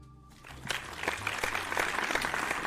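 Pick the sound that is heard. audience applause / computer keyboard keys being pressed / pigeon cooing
audience applause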